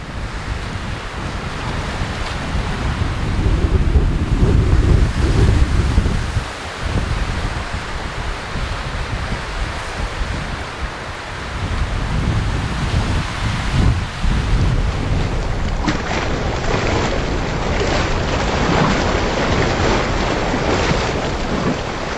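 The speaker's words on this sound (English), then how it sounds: "It's nice comfort when this wind is up." Strong wind gusts through trees at a remote wilderness campsite in Woodland Caribou Provincial Park, a steady loud roar with heavier low rumbling surges early on, continuing without speech.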